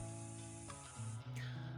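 Personal body spray misted over oneself, a soft continuous hiss with a short break and a second burst, quiet and close against a low steady hum.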